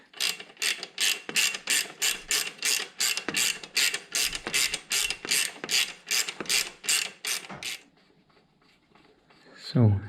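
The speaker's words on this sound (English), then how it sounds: "Let's use a ratcheting wrench." A ratcheting wrench clicks in a quick, even run of about twenty strokes, loosening a 24mm wheel nut on a neglected Honda XR 125 L motorcycle; the clicking is close and crisp, then stops, followed by a short clunk.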